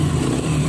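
A Yamaha XTZ motorcycle engine idles steadily up close after its carburetor has been cleaned, a continuous low, even running note with no talk over it.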